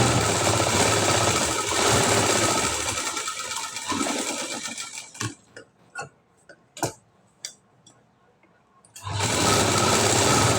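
Sewing machine stitching a high neck blouse, a loud steady close rattle for about five seconds, then a pause of scattered clicks and taps, then the motor running again at full speed.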